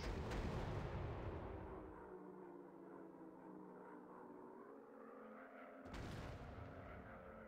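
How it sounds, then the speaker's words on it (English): A WW2 warplane fires rockets during a dogfight in a video game: a loud rushing burst opens, settles into a steady droning engine, then a second sharp blast arrives near the end. "Firing rockets!"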